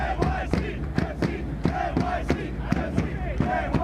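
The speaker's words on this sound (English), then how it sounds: "There's a crowd." Stadium crowd in Football Manager 2018 at an NYCFC versus Atlanta United conference final, a dense roar of voices with rhythmic chanting pulses about every half second, loud and continuous.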